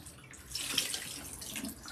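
Water runs from a sink tap while hair is rinsed, a soft, close splashing hiss that swells in the middle and keeps going unevenly, with no voices.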